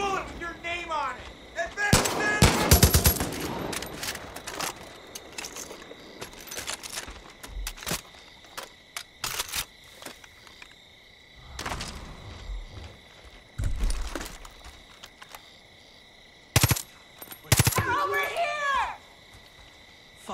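Gunfire in the video game Far Cry 5: loud bursts of shots and blasts in clusters, with quieter gaps between, mixed with game voices shouting.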